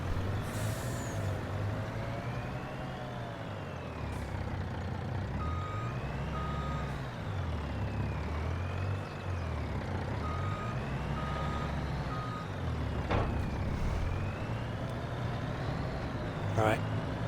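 A Farming Simulator 25 traffic jam of idling in-game trucks: a constant engine drone with rising and falling tones, a repeating reversing beep and a couple of sharp air-brake hisses near the end.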